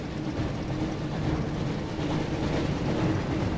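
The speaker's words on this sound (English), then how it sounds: "Looks like we found the train, Ron." The Hogwarts Express train rumbles in the PS1 game Harry Potter and the Chamber of Secrets, a steady broadband roar of rolling wheels and motion filling the whole stretch at an even level, with no talk.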